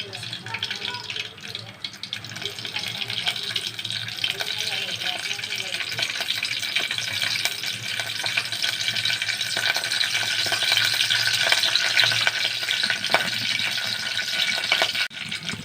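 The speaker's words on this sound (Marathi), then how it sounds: "तर मी इथं तेल तापायला ठेवलं आहे, त्यामध्ये टाकूया आपण कढीपत्ता" Curry leaves sizzle loudly in hot oil, a dense, steady hissing crackle that grows stronger and persists throughout, with a voice speaking beneath it early on.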